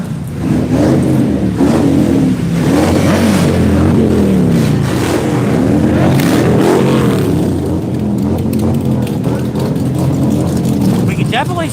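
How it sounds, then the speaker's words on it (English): Motorcycle engines, including Harley-Davidsons, rev and rumble on Main Street during the Leesburg bike rally, loud and continuous with rising and falling throttle swells, while people talk over the noise. "We can definitely say that their engines are running."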